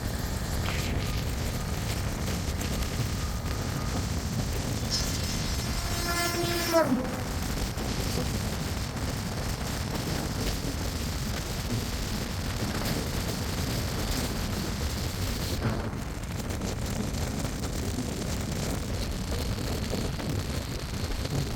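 The 12105 Vidarbha Express crosses the Secunderabad Rajdhani on a curve, with a steady, loud rumble of rolling coaches throughout and a brief horn-like tone near the middle.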